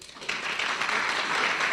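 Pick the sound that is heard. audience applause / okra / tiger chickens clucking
audience applause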